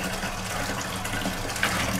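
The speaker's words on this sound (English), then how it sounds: "I have to add hot water to these pellets to break them up into sawdust." Steady rush of hot water being poured onto pellets, a continuous close hiss and gurgle without pause or speech.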